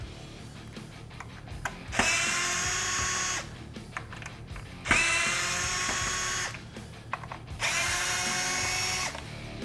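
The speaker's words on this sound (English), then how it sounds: "To remove the bracket, we just need to take off these 3 Phillips screws." A power driver backs out Phillips screws from a taillight bracket on a Jeep Wrangler JL. Three separate whirring bursts, each about one and a half seconds long, are separated by small clicks and handling noises.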